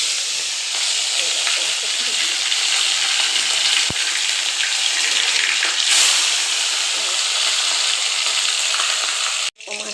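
Bhola fish, rubbed with turmeric, frying in hot oil, giving a steady close sizzle and hiss throughout with one sharp crackle partway, ending in a brief cutoff.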